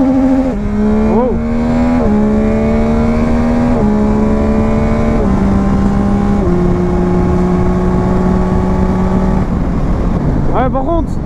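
Yamaha Tracer 900 GT motorcycle accelerating hard through several gears, its loud, close engine note climbing steadily in pitch, dropping briefly at each shift, then rising again, with a short burst of rev and a sharp change near the end.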